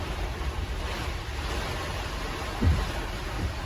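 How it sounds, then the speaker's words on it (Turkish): Strong July storm wind roaring steadily in broadband gusts, with a low rumbling buffet against the microphone, continuous and loud. "İnanılmaz bir rüzgar var."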